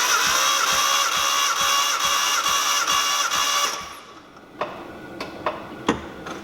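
Engine cranking over steadily during a compression test with all plugs removed and the cam position sensor unplugged, a fast regular ticking churn that stops partway, followed by a few sharp clicks and clatters in a quiet shop.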